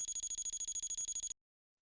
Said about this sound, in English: Once the alarm rings, the MedELert will sound and the red light will flash for 30 minutes